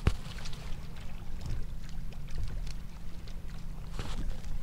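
Sea water sloshes steadily nearby at a Baja California Sur harbour, Puerto Adolfo López Mateos, where fish jump, with a low rumbling wash and scattered small splashes throughout.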